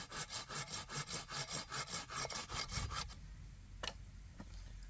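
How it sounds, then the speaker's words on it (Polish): A bushcraft hand saw cuts through wood outdoors, about a dozen steady rasping back-and-forth strokes, close and loud, before stopping into quieter background with a couple of faint knocks. "Ale ta piła jest zajebista."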